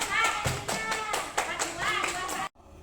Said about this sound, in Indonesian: Tepuk tangan yang lainnya.